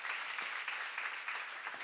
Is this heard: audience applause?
yes